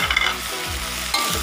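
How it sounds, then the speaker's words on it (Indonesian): Chicken stirred in a pan with lime leaves, bay leaf, lemongrass and spices, a close, steady sizzle with a couple of scraping strokes, no talking. "Aduk rata, masukkan daun jeruk, salam, dan serai, juga bumbunya ya"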